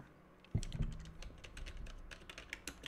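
Brief, quiet typing on a computer keyboard in Windows, a short run of light, quick key clicks that follows a louder first tap, with no talking.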